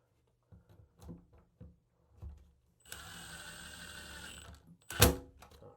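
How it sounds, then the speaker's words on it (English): A screw driven into a shower wall while fixing a loose shower head arm: a few soft handling clicks, then a two-second whirring power-driver burst, followed by a sharp clack and light taps. "we're going to go ahead and take a screw and we're going to put one in"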